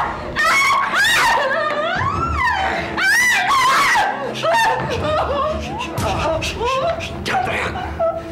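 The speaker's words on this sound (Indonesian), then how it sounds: "Jangan teriak." A woman screams loudly and repeatedly in a tense indoor drama scene, the rising, wavering cries broken by sobbing, whimpering and a voice.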